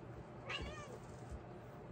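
A house cat gives a single short meow, faint and distant in a quiet room, with no talking over it.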